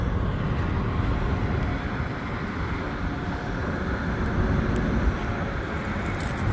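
Steady, loud low rumble of a 4th gen Dodge Ram truck engine running with mufflers deleted, close by and continuous with no talk.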